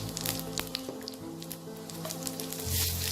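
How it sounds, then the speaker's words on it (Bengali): Two bay leaves and white cumin seeds sizzle in hot oil for a chicken curry, a steady dense crackle with sharp pops, heard alone and close up. "এবার এই তেলে আমি দুটো তেজপাতা আর একটু সাদা জিরে ফোড়ন দিয়ে দেবো।"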